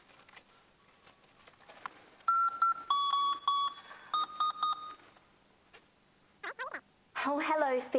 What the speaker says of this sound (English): Magic fairy wand, so dear, please make the fairy phone appear